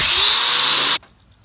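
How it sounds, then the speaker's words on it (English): Power tool grinding down old welds on steel, a loud steady whine for about a second that cuts off abruptly, leaving faint quiet background after. "He's flattening out all the old welds off of here."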